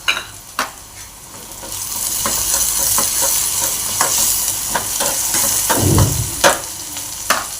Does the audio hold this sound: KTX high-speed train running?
no